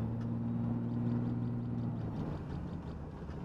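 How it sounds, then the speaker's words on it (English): A heavily loaded diesel truck engine pulls under strain, a loud steady drone with a sustained whine and hum throughout, no voices over it. "See if you can hear this diesel whine up."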